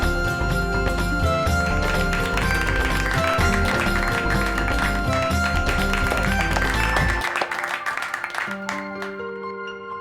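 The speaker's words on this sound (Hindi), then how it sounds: "चाचा के लिए जोरदार तालियां" An audience claps loudly for an elderly uncle who has just taken an injection on a Hindi comedy show. The applause is dense and steady, mixed with music, then cuts away after about seven seconds, leaving quieter tones.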